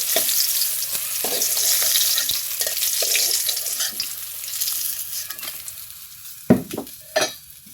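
Rohu fish pieces sizzle steadily in hot oil with a continuous crackling hiss, broken near the end by a few sharp utensil clinks and scrapes against the pan.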